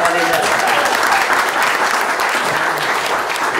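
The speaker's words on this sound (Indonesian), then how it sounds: "tepuk tangan Pak Didin" Loud, steady audience applause in an indoor gathering, thick continuous clapping from a full room filling the whole moment.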